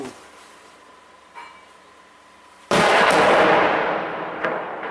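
Distant gunfire or shelling coming from two sides, a faint thump and then a sudden loud blast that rolls off into a long fading rumble, with no talk.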